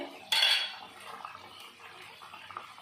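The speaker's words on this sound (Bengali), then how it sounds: "এবার ঢাকনাটা খুলে নেব তো আলু আলুটা সিদ্ধ হয়ে গেছে" A metal lid comes off a pot of boiled potatoes with one sharp clank, followed by light, quieter clatter of cookware close by.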